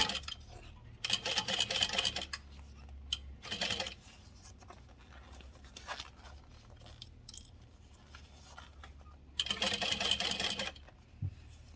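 A sewing machine stitches binding onto a Catalina garment with a long stitch length. The close, rapid mechanical chatter comes in three short runs separated by quiet fabric handling, with no voices.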